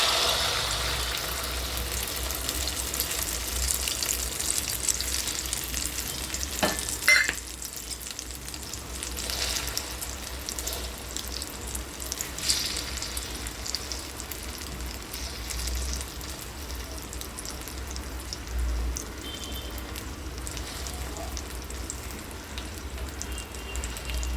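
Tomato and egg omelette batter frying on a hot griddle, giving a steady, close sizzle that runs on alone with a few brief clatters and no talking.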